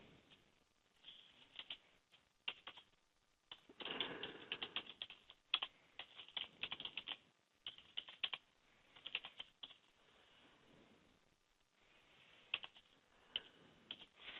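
Typing on a computer keyboard: quick, close clicking keystrokes come in bursts with short pauses between them, fairly quiet and with no talk.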